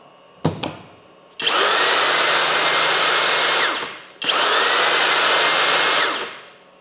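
A Flex 2-gear right angle drill running in turbo mode, heard as two long, loud, steady high-pitched whirring runs of about two and a half seconds each, following a couple of brief clicks.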